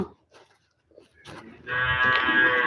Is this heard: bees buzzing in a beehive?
no